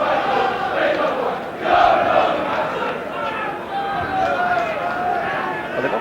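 A large all-ticket football crowd of about 10,000 at Griffin Park stadium fills the air with a constant roar and chanting that swells and fades, with commentary voices over it.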